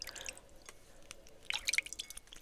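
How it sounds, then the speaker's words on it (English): A Dollar Tree skincare item is rinsed in water, giving soft drips and wet squishes, a few scattered at first and then a brief, busier cluster of splashy sounds near the end, all quiet and close. "We're gonna rinse that."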